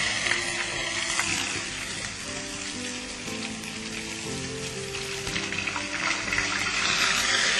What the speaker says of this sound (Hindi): इसको भूनने के लिए हम थोड़ा सा पानी लेंगे।